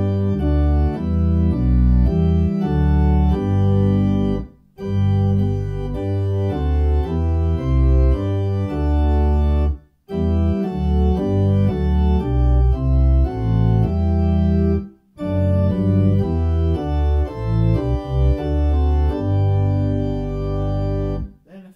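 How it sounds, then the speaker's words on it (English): Rodgers A677 organ on principals with an 8-foot flute and 16-foot pedals, loud chordal phrases played in several long sustained passages separated by brief pauses. "There's an 8-foot flute in there also, and the 16-foot pedals."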